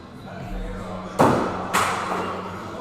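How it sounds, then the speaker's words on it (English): An over-rotated thrown axe hits a wooden target board head first, giving two sharp thuds about half a second apart over steady background room noise in an axe-throwing venue. "you will hear the thud of an over-rotated axe from time to time as it hits the board head first and then drops to the floor"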